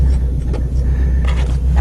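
A Subaru engine idles roughly just after a cold start, having sat unused with rusted-out pipes and no belt, giving a loud, steady low rumble close by with no talk.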